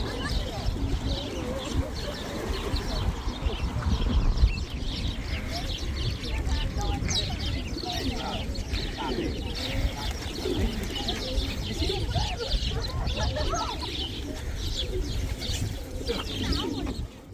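Pigeons coo and flutter amid a busy outdoor murmur in Cappadocia, Turkey, soft repeated calls mixed with chirps and people talking in the background.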